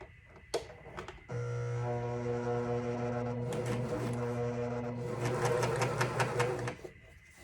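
A Juki MCS1500 coverstitch machine sews a seam, its motor running as a steady loud hum with a rapid needle chatter for several seconds, preceded by a few clicks and followed by a brief clatter.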